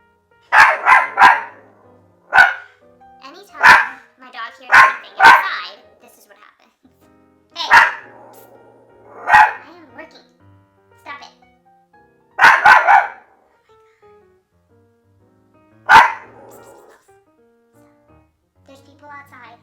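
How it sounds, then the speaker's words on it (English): A pet dog barks indoors in loud, sharp bursts, single and doubled, spaced irregularly a second or two apart, with a person's voice occasionally heard between barks. "I'm gonna continue until he stops barking"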